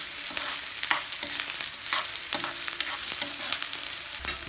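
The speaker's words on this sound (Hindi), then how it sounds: "सब्जियों को चलो फ्राई करना है" Vegetables stir-fried in a pan, a soft steady sizzle with repeated sharp scrapes and taps of the spatula at an uneven rhythm, close by.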